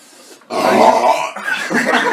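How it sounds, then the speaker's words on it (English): A teen boy lets out a long, loud, close belch lasting over a second, rumbling and gravelly, with a brief second swell of the burp at the end. "Let's get another burp going."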